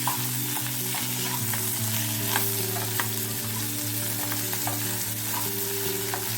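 Ivy gourd sautéing in a pan over a full high flame, a continuous loud sizzle with light stirring scrapes, accompanied by a steady tonal hum in the background, no speech.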